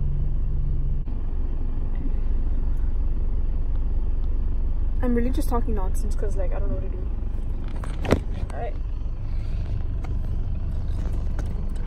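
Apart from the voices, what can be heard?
car driving slowly in traffic, interior rumble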